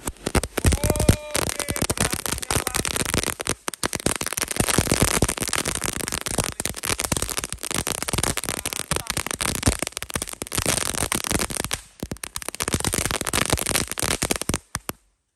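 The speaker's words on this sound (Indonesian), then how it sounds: "Selanjutnya kita nyalakan mercon air mancur Beauty Flower. Ini air mancur pretek, ada bola-bolanya." A Beauty Flower firework fountain pushed into the ground burns loudly and continuously, hissing and crackling with dense popping for about fifteen seconds, with a brief dip near the end before the crackle resumes.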